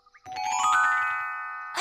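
A cartoon bell that rings many different bell sounds gives one bright, ringing chime that swells and then slowly fades, following a short hum. It ends with a brief clatter.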